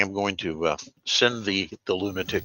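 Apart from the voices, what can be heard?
No everyday noises stand out.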